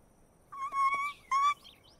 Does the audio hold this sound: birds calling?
yes